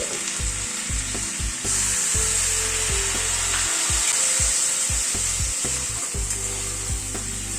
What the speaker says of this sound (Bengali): সব দিয়ে মাটনটাকে আবার একটু নাড়াচাড়া করে নিচ্ছি